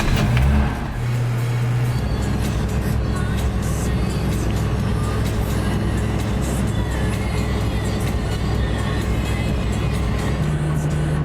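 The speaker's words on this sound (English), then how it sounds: "Driving towards the big statues." A car drives along a road in Hua Hin, Thailand, heading toward a statue park, its steady engine and tyre drone filling the cabin continuously and loudly throughout, with a brief low hum near the start and end.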